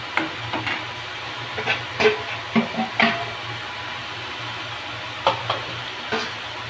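Garlic paste goes into a hot pan while cooking suva bhaji and bhindi, with a steady low sizzle and scattered sharp taps and scrapes of a spoon stirring against the pan.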